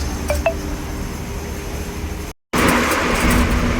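Steady engine rumble and road noise fill the cabin of a bus heard from the very last back seat. The drone stays even apart from a brief dropout near the middle, and no one speaks.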